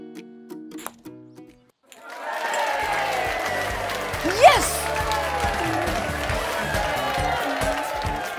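A group of young children cheering together at a preschool worship session, a sudden sustained burst of excited shouts and clapping after a quiet start with a few voices.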